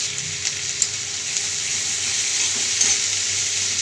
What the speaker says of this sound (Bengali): তো পেঁয়াজটা ভাজতে দিলাম